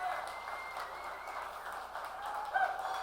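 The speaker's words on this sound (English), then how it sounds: "Oceana Wills, let's give her a round of applause." Steady crowd applause fills a small room at the Fish Poets Gathering at the Wet Dog Cafe, a sustained, even patter of many hands for a poet, moderately loud throughout.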